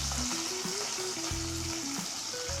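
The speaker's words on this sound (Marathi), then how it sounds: "तर तेल गरम झालेलं आहे त्याच्यामध्ये जिरं मोहरी टाकू, हिरवी मिरची," Cumin, mustard seeds, green chili and onion crackle and sizzle in hot oil for a dal tadka tempering, a steady close hiss with a faint tonal line running beneath it.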